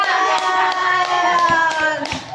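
A classroom of students claps hands together in a short, steady burst of close, bright applause, with faint voices mixed in underneath.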